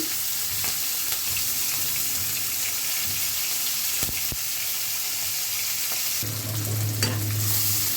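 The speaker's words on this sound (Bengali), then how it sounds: "এখন হচ্ছে পেঁয়াজ কুচি কাঁচা মরিচ কুচি এগুলো দিয়ে দিব" Chopped onion and green chili fry in a pan with fried rohu fish, giving a soft, steady sizzle with stirring scrapes, then a low hum joins near the end.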